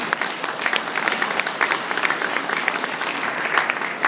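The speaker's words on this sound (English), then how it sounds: "Let's give him a warm round of applause for Honorary Consul General Bodo Kruger." Audience applause at a diplomatic reception honoring an honorary consul general, a dense, steady round of clapping from a large gathering that holds for about four seconds with no voices over it.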